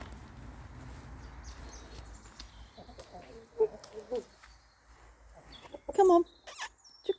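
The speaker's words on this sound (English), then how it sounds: "Mrs. Black Chicken, are you coming too?" Backyard chickens cluck and chirp softly at dusk while being herded into their coop, with a few sharper close squawks near the end over faint outdoor background noise.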